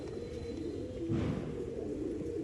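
An old line pigeon offered for sale in Bangalore gives a low, soft coo that swells briefly in the middle, close by against a steady background hum.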